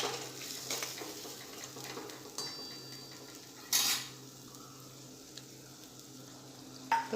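Onions sautéing in a pan for Rajasthani malai pyaz sabji, a quiet steady sizzle with occasional clinks and scrapes of a spoon against the pan, and a sharper clatter near the middle and the end.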